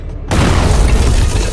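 A heavy explosion erupts as a sound effect in a dramatic narrated fantasy story, bursting in suddenly after a brief quiet moment and rolling on as a loud, deep, sustained rumble.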